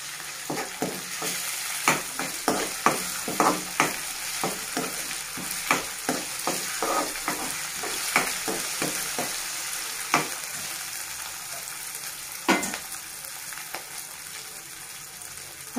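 Ginger garlic paste sizzles in hot oil for a Telugu-style potato fry, with steady frying hiss broken by frequent sharp scraping clicks of a spoon stirring the pan, up close with no talking.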